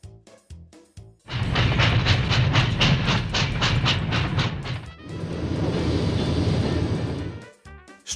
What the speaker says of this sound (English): Locomotive train.